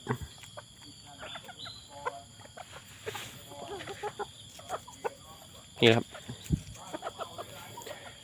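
Bantam chickens on a rural Thai farm cluck softly and intermittently at close range, with one sharper call standing out midway, while someone talks over them throughout.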